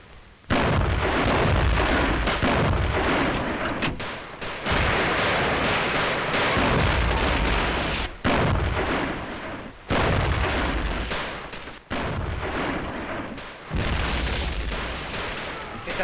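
Cannon artillery fire during a siege of a tower fort, repeated thunderous blasts every couple of seconds, very loud and close, rumbling and overlapping with little pause between shots.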